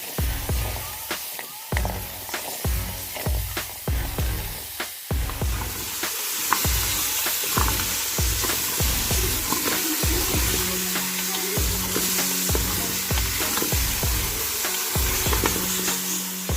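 Carrots frying in a pan for gajar halwa, first with rhythmic repeated scraping strokes of stirring, then a steady, denser sizzle with faint tonal hum for the rest; no voices.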